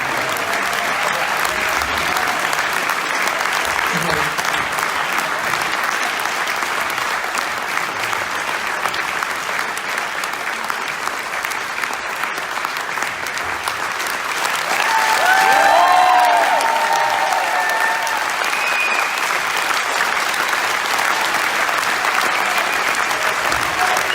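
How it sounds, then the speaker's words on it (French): Sustained, loud applause from a crowd after an open-mic performance in Provence, an even roar of clapping lasting over twenty seconds, with faint voices and whoops rising briefly in the middle. "On peut l'applaudir, non?"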